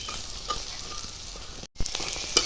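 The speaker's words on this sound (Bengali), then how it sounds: "দেখুন বড়া ভাজা হয়ে গেছে" Bhetki fish and drumstick flower fritters frying in hot oil, a steady close crackle and sizzle with a few sharp pops and one brief break in the sound.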